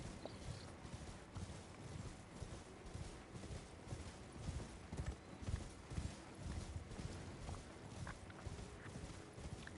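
Hooves of a spectral horse clip-clop steadily in the Elden Ring video game, a quiet continuous rhythmic trot with no speech over it.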